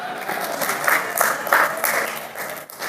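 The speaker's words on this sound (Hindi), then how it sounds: "आप तालियां आराम से बजा सकते हैं।" Applause from the audience at a Hindi poetry gathering swells in several waves of clapping, fairly close and lively, with a speaking voice mixed in.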